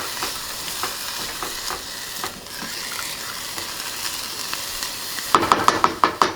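Lentils simmering in broth in a pan on a stove, a steady soft sizzle and bubbling throughout, ending in a run of sharp clicks like a burner knob or lid being handled.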